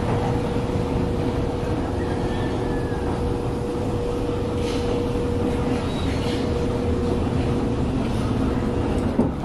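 A residential gate motor adapted to drive a sliding roof along rails, a steady droning motor hum with a constant whine that runs evenly for several seconds, close and fairly loud.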